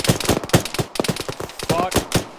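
Sustained automatic gunfire from a BMP armored vehicle in the Arma military game, rapid loud bursts cracking in close succession throughout, with bits of radio chatter mixed in.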